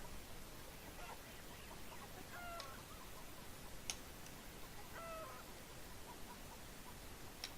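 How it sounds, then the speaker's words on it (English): Chickens clucking near a coop in the video game Beyond Eyes, a few faint, brief clucks set against a steady hiss of background noise. "He's herding chickens outside of their chicken coop."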